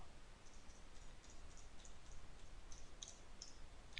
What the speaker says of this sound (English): I'm going to hold down shift on my keyboard and I'm going to go across the top